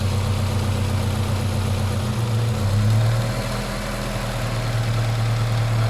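A 2002 Honda CR-V 2.0E 4WD engine idling, a steady low hum with a smooth even drone, close and continuous with a slight shift in pitch midway.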